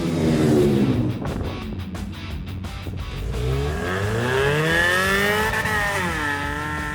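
A Toyota-powered Snark ATV running at speed, its engine note loud and close, rising and falling in pitch as it pulls past, with rumbling wind and drivetrain noise throughout.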